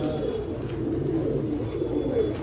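Pigeons coo continuously in low, throaty murmurs, close and steady, with no talking.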